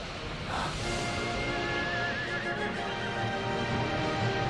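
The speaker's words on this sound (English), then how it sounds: "I hate these horses on these boats." Horses neighing aboard a boat in a Fire Emblem anime, a faint high whinny rising early over a steady background hum, with soft hoof-like knocks later.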